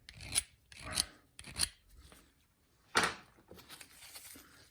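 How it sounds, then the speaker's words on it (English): A hand file rasps across the cut end of a copper pipe before soldering, in several short, close scraping strokes with brief pauses between them. "So I'm just going to give it a little file."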